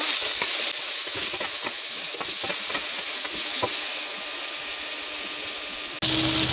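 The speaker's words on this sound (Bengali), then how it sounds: "আমি লাল লাল করে ভেজে নেব" Potatoes and eggplant frying in a pan with salt and turmeric give a loud, continuous sizzling hiss with occasional scraping stirs, and the sound shifts abruptly near the end.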